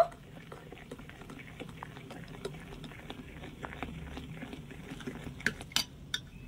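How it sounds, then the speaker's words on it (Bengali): A spoon stirs semolina batter after Eno is added, giving soft repeated clinks and scrapes against the bowl at close range, fairly quiet and steady. "এবারে এই ইনোটা দিয়ে একটু ভালো করে নেড়েচেড়ে মিশিয়ে নেব।"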